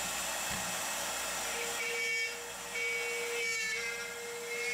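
A CNC router bit spinning at 12,000 RPM cuts into slightly warped wood, a steady loud whine and hiss with a sustained tone that dips briefly mid-cut.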